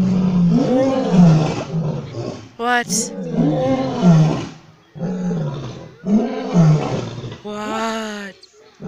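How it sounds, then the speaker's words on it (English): Lions in Nairobi National Park, Kenya, roar loudly in a series of deep, moaning calls that rise and fade in repeated bouts, with people briefly talking between them. "Lions."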